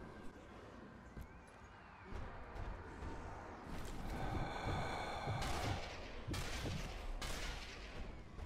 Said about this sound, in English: And we just gotta shoot them all.